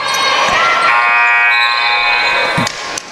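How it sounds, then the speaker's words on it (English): Shot clock buzzer blaring at a women's college basketball game against Florida Tech, a loud sustained electronic tone lasting about two and a half seconds before cutting off, with crowd noise and a sneaker squeak around it. "The buzzer went off."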